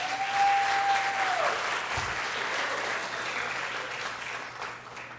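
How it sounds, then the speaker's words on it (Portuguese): Audience clapping at a youth gathering, a steady, full round of applause running throughout and easing slightly toward the end, with a brief tone at the start. "uma salva de palmas"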